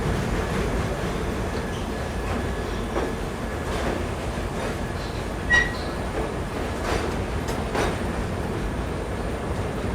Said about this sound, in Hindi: बालूरघाट भटिंडा, मतलब भटिंडा बालूरघाट फरक्का एक्सप्रेस हमको पैरेलली ओवरटेक कर रही